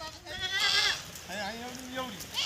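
Goats feeding at a farm during rainy weather bleat in a few wavering cries close by, a lower drawn-out call following the higher ones.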